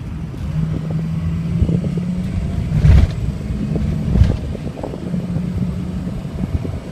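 A 2004 Ford F350 diesel 4x4 Lariat one-ton truck rolling along, a low steady rumble of engine and road noise inside the cab, with a couple of brief louder thumps from bumps.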